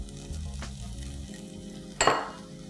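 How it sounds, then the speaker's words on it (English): Pulimunchi fish curry masala is stirred in a pan, with a low bubbling sizzle, soft scraping, and a sharp clink of a utensil against the pan near the end. "Let's stir this well"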